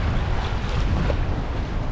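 Steady rushing of ocean swells and wind around a sailing boat far out mid-Atlantic, a loud continuous wash of water and wind noise with no break.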